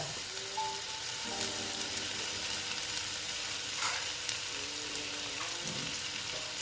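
Spices frying in a pan with ginger paste, stirred steadily for a Bengali banana flower curry, with a continuous close sizzle and soft scraping strokes throughout, no talking.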